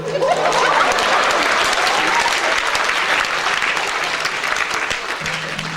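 A concert crowd at a festival gig claps loudly and continuously for a rock band's guest drummer, a dense steady roar of applause that fades slightly toward the end.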